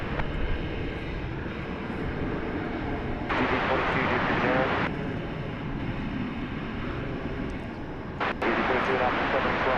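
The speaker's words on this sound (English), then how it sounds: "you heard another plane taking off" A jet airliner roars steadily as it takes off from DFW Airport, a loud continuous engine rumble with a brighter surge midway, heard from nearby.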